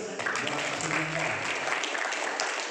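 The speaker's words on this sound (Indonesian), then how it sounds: "Ya, kita kasih aplaus" An audience at a question-and-answer session on BPJS Health and Employment insurance applauds, a dense, steady wash of clapping that sounds close and fairly loud and lasts the whole moment.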